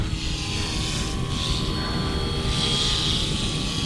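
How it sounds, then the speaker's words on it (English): Small brushless RC helicopter hovering and cruising, a steady, even whirring hum of rotor and motor held at constant loudness throughout, fairly close, with no voices. "this is just a nice, easy, cruising little helicopter, Abby."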